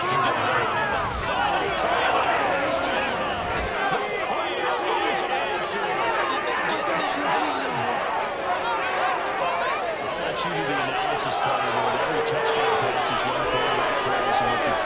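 A large stadium crowd at an American football game keeps up a dense, steady roar of cheering and chatter throughout.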